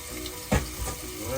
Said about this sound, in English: You hear that sizzle right there? Start with some onions.